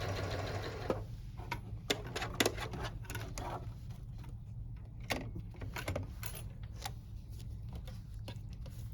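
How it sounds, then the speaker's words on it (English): A sewing machine stitches down the side of a fabric key fob wristlet at close range, a steady motor hum with rapid needle ticks and scattered light clicks and jingles of hardware. "And then just stitching down the other side."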